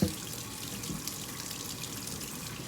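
Hot tap water runs steadily into a sink while potatoes are scrubbed, a continuous close hiss and splash with a small knock at the start and no talking.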